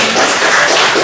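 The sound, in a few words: congregation applauding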